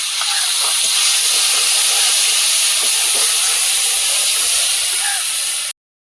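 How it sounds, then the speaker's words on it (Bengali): Cumin, green chilli and cashew paste hit hot butter in a very hot pan and sizzle loudly, a constant close-up hiss that keeps going until it cuts off suddenly near the end. "এবারে দেবো এখানে জিরে কাঁচা লঙ্কা আর কাজু বাদাম একসঙ্গে বাটার মধ্যে দিয়ে দেবো"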